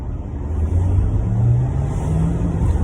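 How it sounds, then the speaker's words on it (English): A Porsche Taycan Turbo S electric car drives past outside, giving a steady low hum and whine with a slowly rising tone that stays moderately loud and close the whole time, with no talking over it. "Oh, that must be that electric car from Porsche, that Taycan."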